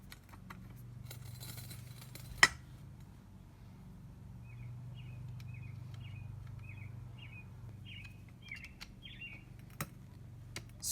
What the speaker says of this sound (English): Springtime. Got the birds chirping in the background.